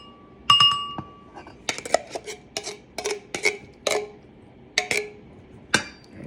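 Canned pineapple chunks tumbling into a glass bowl, a quick series of close, sharp clinks and taps against the glass, irregular and bright, with no talking.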